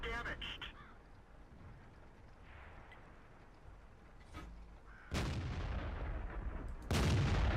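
A tank's main gun fires in the World of Tanks video game, a sharp heavy boom with a decaying rumble, followed by another blast, while someone talks over the game noise.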